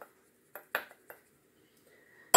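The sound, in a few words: cleaning up and putting away kitchen utensils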